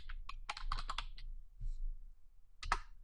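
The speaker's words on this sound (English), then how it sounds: "just start typing in the Search for a Function text box what you want the function to do" Quick, uneven bursts of keystrokes on a computer keyboard while entering a search in Excel 2010's function box, a cluster of clicks, then a pause and one final sharp tap.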